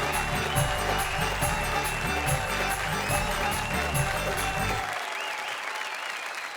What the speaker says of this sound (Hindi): आइए तालियों की घनघोर बारिश कर दें